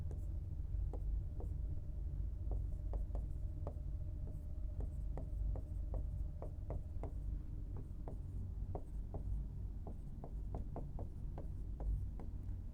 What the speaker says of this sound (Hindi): इधर मैं लिख देता हूं इसको